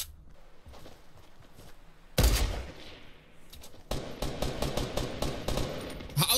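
Automatic gunfire in the video game Fortnite: after a quieter opening, loud sustained bursts of shots erupt, pause briefly, then resume in rapid repeated volleys to the end.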